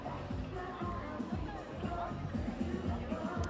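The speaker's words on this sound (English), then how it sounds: "We want to show the crowd out here just to see the number of folks who are out here for this watch party." A basketball watch party crowd murmurs steadily, a dense hubbub of many overlapping voices with occasional louder chatter, continuous throughout.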